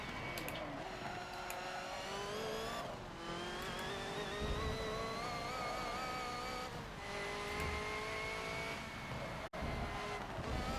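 Racing video game race car lapping Le Mans near the Mulsanne Straight and Michelin Chicane: a continuous high engine whine that rises and drops through gear changes, loud and steady throughout.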